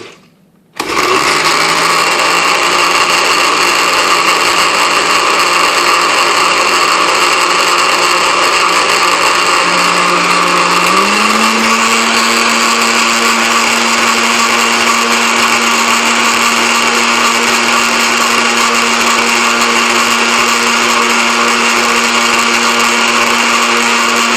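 A kitchen blender whirs steadily for over twenty seconds, mixing the ingredients of a sweetfire sauce of vinegar and hot pepper; the motor starts abruptly, runs loud and close, and shifts slightly higher in pitch about halfway through.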